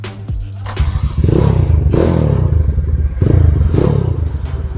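A Honda CB motorcycle engine is kicked over and caught, with mechanical clatter and uneven bursts of loud, rough revving close by, no talking.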